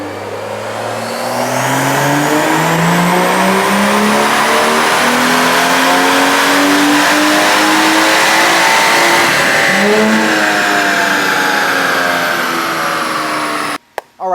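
A stage 2 plus tuned BMW 340 in Sport Plus mode pulls hard on a dyno, its engine revving loud and close through repeated rising gear sweeps, then cutting off abruptly at the end.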